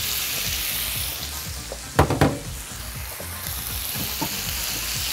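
Beef bacon and onion frying in olive oil: a constant loud crackling sizzle, broken midway by a quick cluster of metallic utensil clatters against the pan, with no voices.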